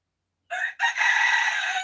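A rooster crows once, loud and close, a short note then a long drawn-out call against silence.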